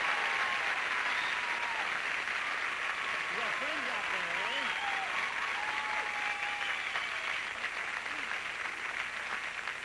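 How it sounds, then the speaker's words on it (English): Game show studio audience applauding for a contestant in 1977, a steady, full round of clapping that runs about ten seconds, with a host and others talking over it. "What do you say we all briskly applaud Mr."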